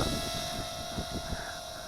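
An FQ777 FQ10a micro camera quadcopter drone flies outdoors against a light wind, giving a steady high-pitched motor whine. It sounds moderately close, with wind rumbling underneath and no voices.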